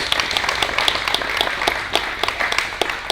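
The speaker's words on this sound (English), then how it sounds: "Round of applause." Meeting attendees clap after a speaker's talk, a short burst of moderately sized applause with individual claps standing out, steady and fairly close throughout.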